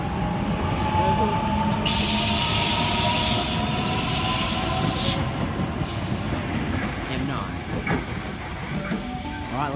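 A Sydney Trains suburban electric train, a Millennium set, rumbles and hisses at Petersham station platform, with a bright high whine swelling and fading and a steady low roll underneath.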